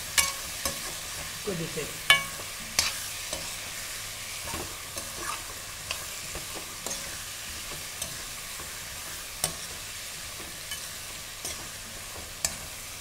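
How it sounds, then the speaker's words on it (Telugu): Eggplant pieces are stirred into a pan of village-style dry fish curry, giving a soft steady sizzle with repeated spoon clicks and scrapes at an irregular pace; a voice speaks briefly. "వేసుకుని ఏం చేయాలంటే ఇది బాగా ఇట్లా కలుపుకోవాలండి"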